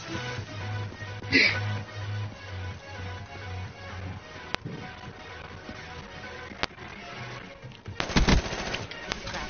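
Rapid gunfire bursts and sharp shots from Call of Duty Black Ops 3 gameplay, with a dense cluster of loud shots near the end over a busy background of game audio.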